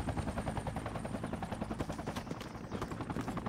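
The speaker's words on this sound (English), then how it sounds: "Is that still the chopper? Yeah, yes, it is always the chopper." An attack helicopter in a combat video game drones with a dense, continuous rotor thrum, mixed with rapid bursts of gunfire throughout.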